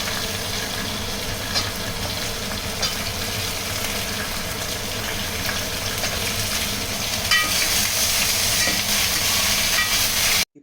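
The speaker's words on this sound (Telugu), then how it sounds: "కొంచెం కరివేపాకు, ఉల్లిగడ్డ, దోసకాయ, మునక్కాయ, కట్ చేసుకున్న టమాటా వేసి నీట్గా కలుపుకోవాలి" Curry leaves, onion, cucumber, drumstick and tomato frying in oil while being stirred, a loud continuous sizzle and hiss with faint scraping, ending abruptly.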